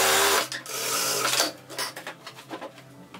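Sewing machine stitching a right-sides-together seam on a draped one-shoulder dress, a loud steady whir that stops after about a second and a half, followed by softer fabric handling and clicks.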